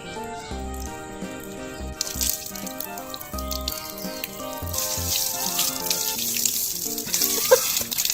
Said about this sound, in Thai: กำลังสนุกกับการเล่นน้ำ